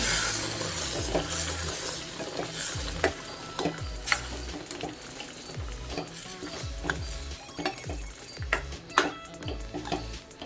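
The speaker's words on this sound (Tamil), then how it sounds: "இப்போ வேக வச்ச வாழைத்தண்டை சேர்க்கலாம்." Boiled banana stem is stirred into a pan of Tamil kootu, with repeated scraping stirs and a low simmering sizzle throughout, no talking.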